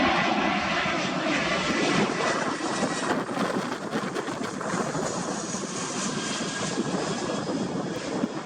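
Fixed-wing airliner engines roaring steadily at Bahrain International Airport, a loud, continuous broadband drone holding throughout with no talk over it.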